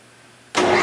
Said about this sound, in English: As you can see, the motor sounds excellent, spindle bearings sound excellent.